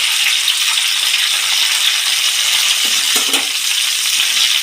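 Dry red chilies, curry leaves and turmeric fry lightly in a pan, giving a steady, close sizzle with a couple of brief stirring scrapes near the three-second mark.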